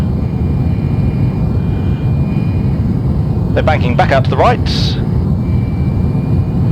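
An F-4J Phantom II jet roars steadily on afterburner in a flight simulator, low over a valley road, a loud continuous rumble throughout with a voice talking over it midway.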